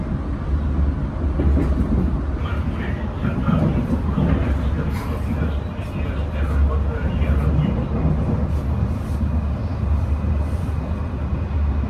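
Steady rumble of a moving train, heard from inside a carriage on the way to Montserrat, running continuously at a constant loud level, with faint clatter and voices talking over it.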